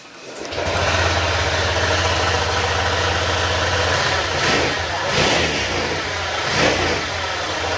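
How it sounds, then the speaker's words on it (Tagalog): A worn secondhand motorcycle engine in need of an overhaul runs steadily and loud up close, with a rough, rattling knock through the idle and slight revving. "yung click na ibababa yung makina dahil sa tunog na to"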